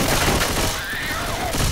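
Gunfire in Left 4 Dead 2 during an Xbox 360 Confogl match crackles as a loud, dense burst of rapid shots, with a faint voice beneath the noise.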